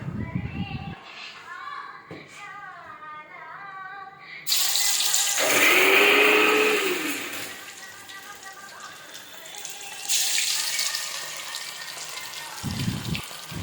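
Fish pieces drop into hot oil and fry in a pan with a broad, steady sizzling hiss that swells loudly and then settles. A voice speaks before and briefly during the frying.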